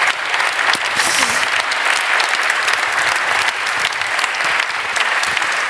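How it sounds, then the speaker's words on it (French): Sustained applause from a round-table audience at a public health conference, steady clapping from many hands throughout, with a faint murmur of voices underneath. "Je vous propose d'applaudir."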